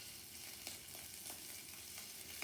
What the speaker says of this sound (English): So, let's get that sizzle going, maybe a little more heat.